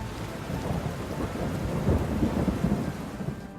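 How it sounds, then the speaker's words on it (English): Steady rain falls on the Galapagos Islands with low, rolling thunder rumbling underneath, fairly loud and continuous throughout. "Rain comes to the islands."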